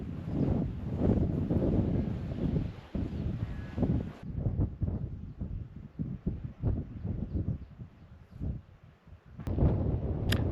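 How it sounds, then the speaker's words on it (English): Gusty wind buffets the microphone in uneven bursts, rising and falling over a couple of lulls, loud and close. "It's quite windy"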